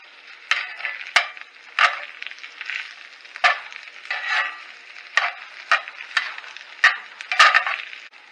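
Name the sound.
egg being scrambled and stirred into rice in a pan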